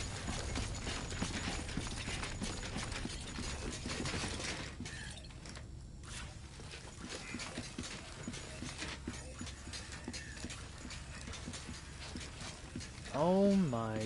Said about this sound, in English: This door's open.